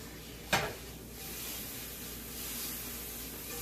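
Shrimp cook in a pan for a quesadilla, giving a steady, soft sizzle throughout, with one brief louder clatter near the start.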